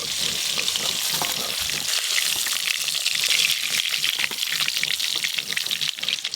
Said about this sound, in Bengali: এই দেখুন একদম হালকা করে ভাজছি, এখনো ইলিশের কাঁচা কাঁচা ভাবটা আছে।